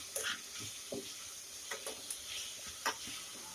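Ginger garlic paste sautés in a pan for tomato rice, a soft sizzle broken by a few light stirring scrapes and clicks of a spoon, fairly faint and close, with no talking.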